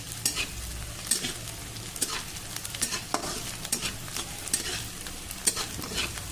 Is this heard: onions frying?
yes